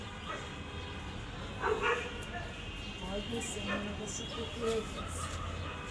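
A dog barks and yips in short bursts inside a home, fairly close, with people talking throughout.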